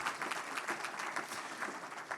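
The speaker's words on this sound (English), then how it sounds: "You could give them a round of applause." An audience at a civics symposium fireside chat with Vice President Mike Pence applauds local police officers, giving dense, continuous clapping at a moderate distance with no speech over it.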